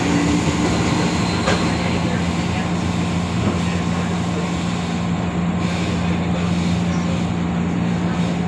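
A Jakarta commuter train runs between stations, a steady loud rumble and hum of wheels and motors carrying on without pause from a cabin interior, with a faint announcement tone in the background.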